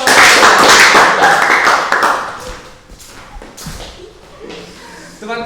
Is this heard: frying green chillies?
no